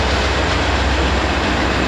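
Freight train locomotives pass through Homewood, Illinois, in a brief, loud, steady rail roar with dense rumble and rolling noise, heard close and with no voices.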